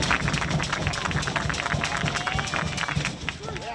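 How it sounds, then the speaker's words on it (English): Crowd at a high school baseball game between Longview Lobos and Frisco Reedy, a steady roar of cheering with scattered hand claps and shouts, fairly loud and continuous from start to finish. "the crowd was being loud"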